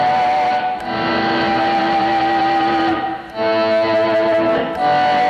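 Electric guitar harmonics run through distortion and swelled in with a volume pedal, producing sustained, shimmering overtone tones that fade in and blend together, played alone at fairly loud level.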